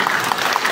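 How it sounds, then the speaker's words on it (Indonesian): A short burst of applause at an official government visit event honoring the regent of Mamasa, a quick patch of crowd clapping that is loud and close. "Tepuk tangan Bupati Mamasa"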